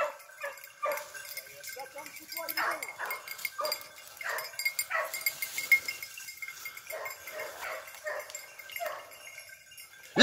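A hunting dog barks repeatedly during a hunt in the Dordogne, sharp irregular barks at moderate distance, while people talk and call out over it.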